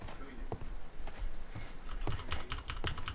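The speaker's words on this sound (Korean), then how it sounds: "네, 기계식 키보드 왔어요" Clicky keystrokes on a mechanical keyboard, close and fairly quiet, coming in irregular bursts that grow denser toward the end over a soft game soundtrack.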